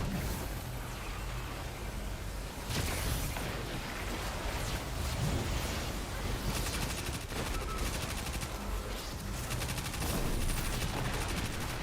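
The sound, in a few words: gunfire in the video game Destiny 2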